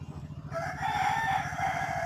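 Chickens on a country chicken farm in Kanchipuram, a rooster crowing loudly over steady clucking from the flock, close and continuous with no one speaking.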